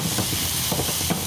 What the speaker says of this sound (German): Jetzt geben wir ein bisschen Butter hinzu.